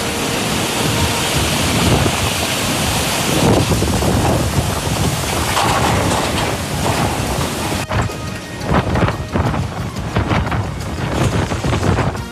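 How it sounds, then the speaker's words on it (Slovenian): Strong storm wind during a local thunderstorm in the Kranj and Ljubljana area roars loud and steady, with dense gusting broadband noise that eases slightly partway through and then turns more buffeting, with no voices. "Dele države, kot ste videli, so popoldne zajela krajevna neurja z močnim vetrom."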